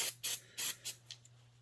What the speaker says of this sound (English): I'm going to take it and just spray it out with a little bit of ether.